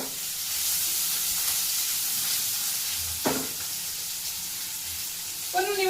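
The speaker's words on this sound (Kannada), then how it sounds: "ಸಾಸಿವೆ, ಕಡಲೆಬೇಳೆ, ಒಂದು ಬ್ಯಾಡಿಗೆ ಮೆಣಸಿನ್ಕಾಯಿ, ಹಸಿಮೆಣಸಿನ್ಕಾಯಿ, ಕರಿಬೇವು, ಇಂಗು, ಸ್ವಲ್ಪ ಉಪ್ಪು ಮತ್ತು ಕೊತ್ತಂಬರಿ ಸಾಕ್ಬಿಟ್ರೆ ಮೊಸರನ್ನ ಒಗ್ಗರಣೆ" Mustard seeds, chana dal, dried and green chillies, curry leaves and asafoetida sizzle steadily in hot oil as a curd-rice tempering, a close continuous frying hiss with a couple of brief clinks.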